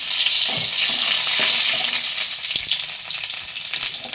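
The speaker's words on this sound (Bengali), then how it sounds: "আমি ঘিটার মধ্যে কুচি করানো একটু রসুন দিয়ে দিলাম।" Chopped garlic fries in ghee over a low flame, making a loud, steady sizzle and crackle that runs continuously throughout, with no voices.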